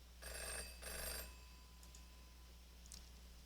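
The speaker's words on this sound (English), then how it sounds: "Sonny, pick up the phone." Telephone ringing in two bursts of bright electronic trilling, close and fairly loud, followed by quiet room tone with a couple of faint clicks.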